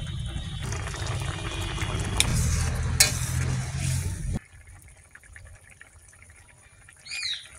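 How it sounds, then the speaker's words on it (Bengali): Ground coriander, cumin and chili powder are stirred into a fish curry in a pan: a close sizzling, scraping mix for about four seconds, then it drops to quiet background sounds with a faint bird call near the end. "মশলাগুলো এই মিশিয়ে দিলাম"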